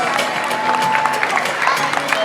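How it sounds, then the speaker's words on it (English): An amphitheater audience at a SeaWorld San Diego dolphin and pilot whale show claps in a dense burst of applause, with scattered cheers and voices mixed in. "deserve a nice big round of applause"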